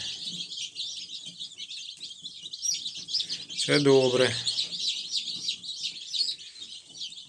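Many newly arrived chicks peep continuously in a high, busy chorus close by, while someone briefly speaks over them.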